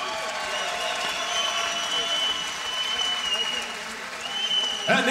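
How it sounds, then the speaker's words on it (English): An audience applauds two middleweight kickboxing fighters after a three-round bout, a dense steady wash of clapping and crowd noise from a large arena, fairly far off, with a brief thump near the end. "let's have a round of applause for these Warriors"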